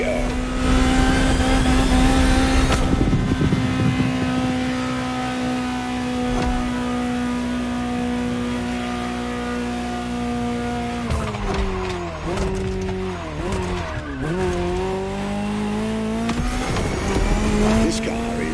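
A Ferrari 288 GTO races in The Crew Motorfest video game, its engine droning steadily with shifting revs and tire squeal, loud and close, under continuous background music.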